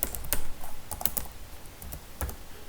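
Keys on a computer keyboard are tapped in short, uneven bursts, close and fairly faint, with no talking.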